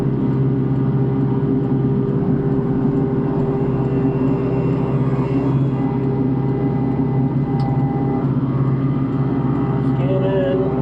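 An MX6000 machine runs throttled down in low, a steady droning engine hum with a deep tonal rumble holding constant and close throughout, with faint brief sounds near the end.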